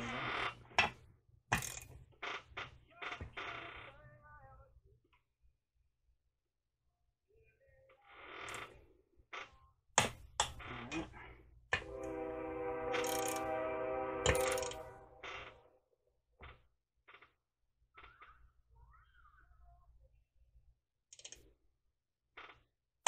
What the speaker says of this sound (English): Let's set the torque wrench to 10 newton meters.